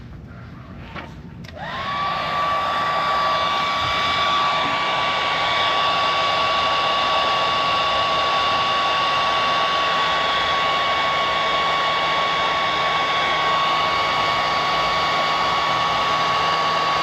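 A heat gun shrinks heat-shrink tubing on boat battery and fish-finder wiring. After a brief click, a loud, steady blowing roar with a thin whine runs without a break.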